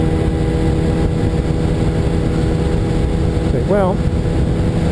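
A Kawasaki ZZR motorcycle engine idles steadily close by, an even, continuous hum with a constant tone, while someone speaks briefly over it near the end.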